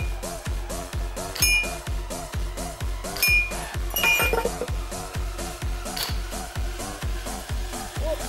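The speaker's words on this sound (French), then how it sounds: "Nous avons la bouteille qui est tombée." Regular, fast mechanical thumping with scattered sharp glassy clinks and rattles in a French bottle-breaking game, where balls knock a glass bottle over; the sound is steady and close, with no clear talking.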